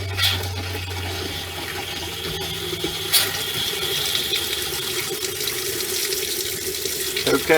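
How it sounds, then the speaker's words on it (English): Water streams steadily from a faucet into the hot water tank of a 2021 Bushwhacker Plus 15FK RV, a constant close rushing hiss with a brief surge of splashing partway through and near the end. "we have a stream of water now"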